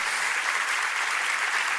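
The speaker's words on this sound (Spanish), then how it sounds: "¿Qué tal si damos un aplauso a nuestro Rey Jesús?" Church congregation applauding for Jesus during a Spanish-language sermon, a steady, dense burst of clapping heard on its own at moderate volume.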